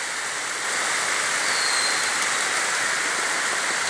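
Steady heavy July rain pouring in Adana, Turkey, a dense continuous hiss of water on surfaces with no voices, loud and unbroken throughout.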